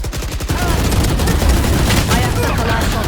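Gunfire in the video game Valorant: rapid bursts of shots ring out close and loud, forming a dense, sustained volley, with a player's voice speaking over the action.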